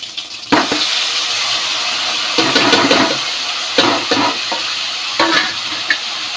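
Spice masala dropped into hot oil already crackling with cumin and mustard seeds, giving a loud, steady sizzle with sharper bursts of spitting and stirring scrapes close up.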